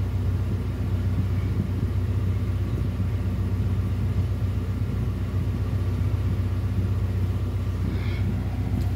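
A Nissan Almera engine that loses pulling power, running as a steady, close mid-pitched rumble that holds throughout without obvious rises.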